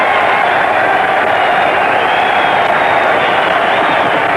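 A large boxing crowd roars in a dense, loud, unbroken wall of cheering as Jess Willard goes down under Jack Dempsey's punches in their 1919 fight.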